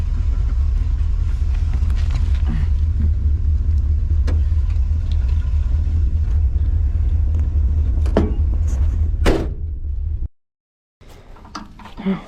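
A 1994 Chevy Caprice carrying people rolls along with a steady low engine and road rumble throughout, voices faintly mixed in, then a brief drop to near silence before the drone resumes more quietly.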